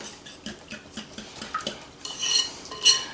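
A utensil stirs seasoning with black pepper around a bowl, giving a run of rhythmic scraping clinks that turn into brighter, louder metallic rattles toward the end, close and with no talking.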